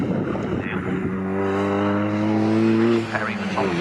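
Racing cars from the Swinging Sixties series at Snetterton circuit roar past with a loud, sustained engine drone that rises and falls in pitch, while a commentator talks over the noise.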